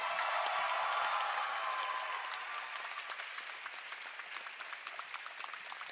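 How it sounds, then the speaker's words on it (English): An esports world championship crowd at a live LAN event applauds and cheers for the winner, a dense burst of clapping that is loud at first and then gradually thins into scattered claps. "Can we get one more big cheer for Hacks, please?"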